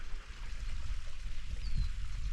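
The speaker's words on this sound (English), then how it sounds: "See some water releasing out of that little pipe there." Water spilling from a small outlet pipe at Watson Lake Dam near Prescott, Arizona, a steady rushing pour with no break, heard outdoors with no talking.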